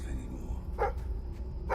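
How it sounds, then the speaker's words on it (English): A dog gives a short bark, then a couple of fainter yips, over a loud, steady low rumble of background noise. "Stop barking."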